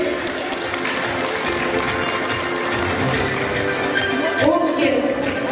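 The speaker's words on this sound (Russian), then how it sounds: "Пожалуйста, аплодисменты." An audience at a children's contest applauds a prize presentation with steady, dense clapping throughout, while voices talk over it and a louder swell comes near the end.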